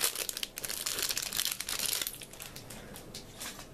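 A plastic packet of coulis from a tart kit being handled and opened, giving dense crinkling and crumpling rustles that are loud at first and ease off, with no speech.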